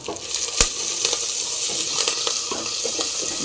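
Sliced onions frying in oil in a pan for a South Indian greens dish, a steady close sizzle with sharp crackles and a few stirring clicks.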